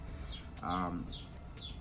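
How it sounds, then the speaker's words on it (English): A chick inside an incubator chirps in repeated high, thin peeps at an even rhythm, close and fairly soft, with a brief low murmur in the middle. "The other one, you can hear it chirping its little heart away."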